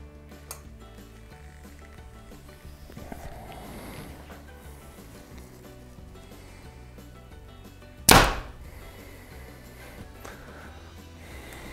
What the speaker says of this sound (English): You can't feel this arrow coming off of this bow at all.